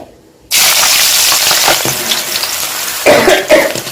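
Chopped green chillies hit hot oil with a sudden loud hiss after a quiet start, sizzling steadily with a couple of sharper spatters near the end.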